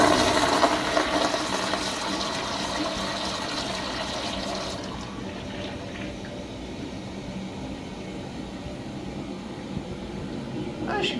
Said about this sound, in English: Now let's take a look at a flush.